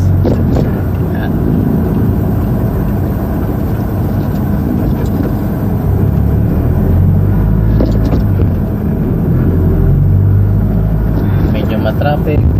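Car driving through slow, congested traffic near MOA in Pasay City: steady low engine and road rumble from inside the vehicle, with someone talking over it throughout.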